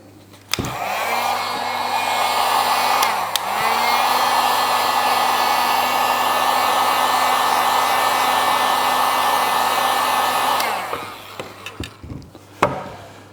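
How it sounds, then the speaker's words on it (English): A heat gun or hair dryer blows with a steady, loud whirring roar for about ten seconds, heating the adhesive on a Honda Goldwing GL1800 fender extension, starting and stopping abruptly, with a brief dip partway through. "a heat gun is handy, or if not, a hairdryer"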